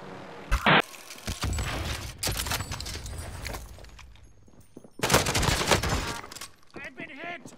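Gunfire crackles in Call of Duty: Warzone, with rapid automatic bursts and single shots in loud clusters, some close and some distant, over game sounds and a player's voice.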